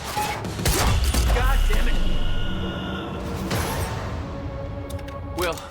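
Gunfire in the video game Quantum Break, a burst of shots with sharp booms and thuds across the first half, mixed with tense shouting and talking throughout.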